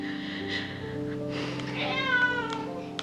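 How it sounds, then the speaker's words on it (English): A cat meows plaintively a few times over a steady low hum, with soft background noise throughout. "Oh, the cat's crying too."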